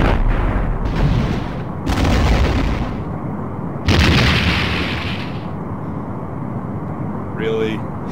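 Weapons firing at a Romulan warbird in a Star Trek: The Next Generation space game: several heavy booming blasts, each decaying into a rumble, with a short electronic chirp near the end.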